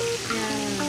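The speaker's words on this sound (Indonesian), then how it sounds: "Oh, goreng ya tteokbokkinya digoreng ya." Tteokbokki rice cakes frying crisp at a street food stall in a traditional Korean market, a steady dense sizzle of hot oil that fills the whole moment without a break.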